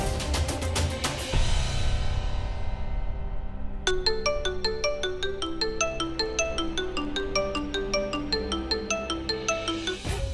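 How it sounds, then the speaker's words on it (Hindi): Phone ringtone for an incoming call, starting with a few bright chimes and then a repeating melodic pattern, loud and close, with no talk over it. "युवराज का फोन?"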